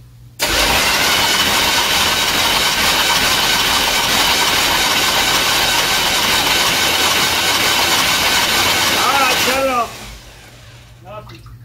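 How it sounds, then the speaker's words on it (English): A 1977 Chevy 350 V8 is spun over continuously to build oil pressure, making a loud, steady mechanical whir for about nine seconds before cutting off abruptly, with a few brief voices afterward. "Just keep spinning it till you get some oil pressure."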